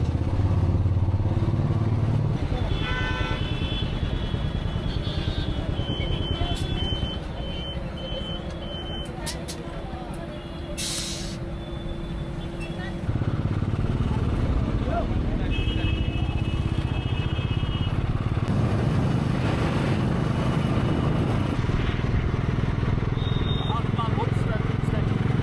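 Motorbike ride through a town in India, with steady engine drone and road rumble, passing traffic, scattered horn beeps and clatter, and people talking over the noise throughout.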